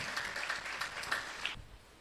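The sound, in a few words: church congregation clapping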